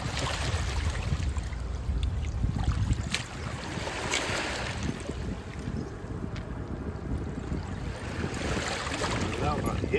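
A boat motor rumbles steadily on a river while mudlarking on the foreshore, with wind buffeting the microphone and a low continuous wash throughout.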